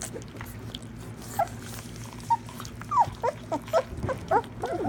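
A dog whimpering at a hunting dog's first meal outing, a handful of short high whines and yelps scattered over a low steady background rumble, close by.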